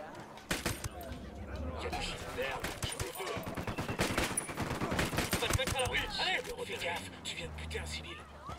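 Gunfire in the shooter video game Ghost Recon Wildlands, a dense fusillade of rapid shots and bursts that keeps going throughout, with game ambience behind it.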